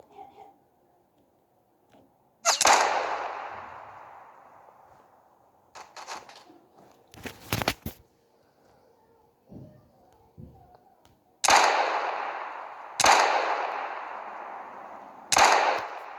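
Pistol shots in a video game, several loud sharp cracks each followed by a long decaying echo, spaced a second or more apart, with mechanical clicks and rattles between them.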